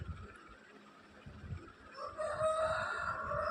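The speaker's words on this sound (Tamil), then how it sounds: "சிக்கன் சொன்னோடனே சிக்கன் கோழிலாம் சவுண்டு போடுது ஃப்ரெண்ட்ஸ்." Chickens cluck and a rooster crows in a kitchen setting, fairly close, the crowing rising toward the end over soft background noise.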